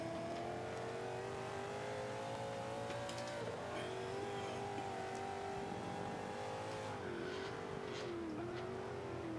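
A car driven in the racing video game Forza 5, its engine droning steadily with rising and falling revs, some brief tire squeal in the middle and a couple of gear shifts near the end, with no talking over it.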